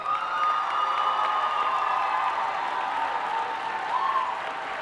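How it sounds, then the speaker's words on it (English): An audience gives sustained applause for graduates at a dual enrollment ceremony, a dense, even clatter of many hands that holds steady throughout at moderate volume. "Let's give another huge round of applause for all of our 400 plus graduates this year."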